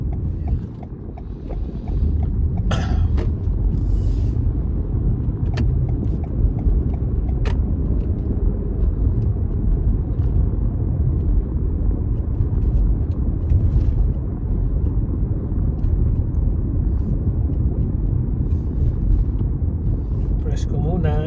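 Inside a moving car on a Canadian road, a constant low engine and road rumble drones steadily throughout, with a few brief clicks and knocks standing out near the start.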